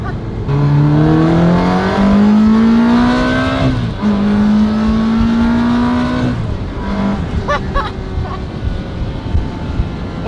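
A Ferrari 360 Spider engine revs hard, its pitch climbing through gear changes as it roars past nearby, then fades with a few pops.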